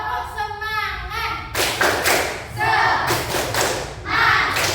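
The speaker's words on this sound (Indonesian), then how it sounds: "Tepuk semangat." Classroom group clapping cheer, a patterned rhythmic clap done together by a class, sharp thudding claps in bursts mixed with voices, starting after a short spoken lead-in.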